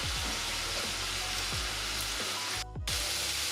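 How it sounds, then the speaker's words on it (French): Soy sauce and liquid smoke hitting a hot pan, giving a dense continuous sizzle with bubbling pops and a brief dip before the hiss resumes, close and loud with no talking. "Donc on va venir déglacer avec l'équivalent de 2 cuillères à soupe de sauce soja."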